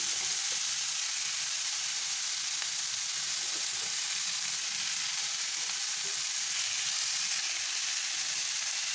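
Peeled, chopped watermelon rind pieces fry in a pan with a continuous, dense sizzle that stays level throughout, with nothing else over it.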